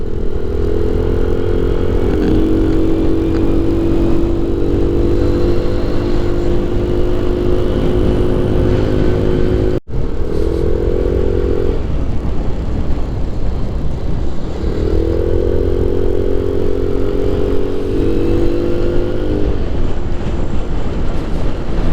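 A motorcycle engine labours on a mountain road in Taiwan, held back behind a slow car that cannot climb. It revs in two long drawn-out pulls with a brief cutout between them, loud and close, with no talking.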